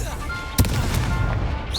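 Incendio fire spell in Hogwarts Legacy: a sharp, close burst erupts and is followed by a crackling, roaring whoosh amid game noise.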